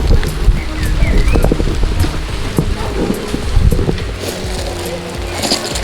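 Rain or Shine Barbie doll from the early 2000s, its toy umbrella spraying water from the top: a steady hissing, rain-like spray with scattered drips and pattering throughout, fairly loud and close.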